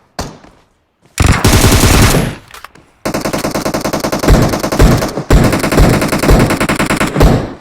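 Rapid automatic gunfire from an online shooter game blasts in loud bursts, a short volley, a pause, then long rattling strings of shots close up with no speech.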